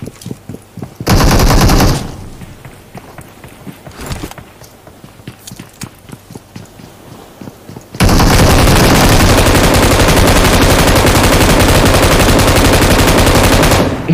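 Loud bursts of rapid video game gunfire, a short volley early on, scattered shots and clicks, then a long continuous roar of automatic fire close by.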